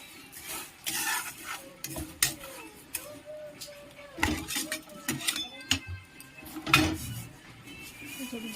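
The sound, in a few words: stirring dal roasting in a pan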